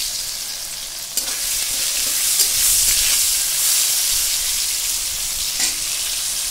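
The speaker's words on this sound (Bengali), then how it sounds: "এবার সেই ফোড়নের ভিতরে আমি সেই কাঁচকলা ছেড়ে দিলাম। দেখো কাঁচকলাটা আগেই আমি একটু ভেজে নেব" Raw green banana pieces fry in spiced oil, a loud, steady, close sizzle with a bright hiss that swells slightly midway, with occasional stirring knocks and no voices.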